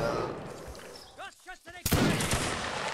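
A musket volley cracks out in the Napoleonic Wars mod of Mount and Blade Warband, a sharp, loud burst of shots near the end following voices in the middle.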